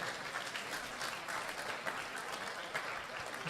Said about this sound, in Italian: Intanto fategli un applauso per risarcirlo